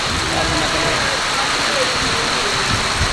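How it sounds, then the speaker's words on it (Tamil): Heavy rain pounds down on a festival site beside a shelter, a dense, steady hiss that fills the whole stretch without letting up. "இது பார்த்தா மழை பூண்டு செம்ம அடி அடிக்குது."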